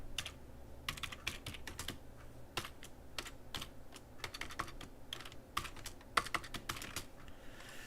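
Fast, uneven typing on a computer keyboard during a live coin auction, with sharp clicking keystrokes in irregular bursts and short pauses, steady and close throughout with no speech.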